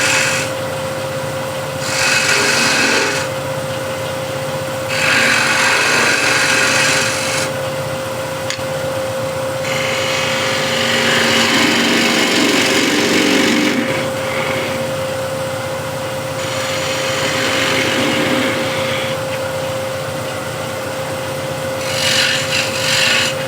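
A scraper and square tool work the shoulder of a hexagon plate spinning on a wood lathe, giving loud bursts of rasping cut noise that start and stop several times over a steady motor hum.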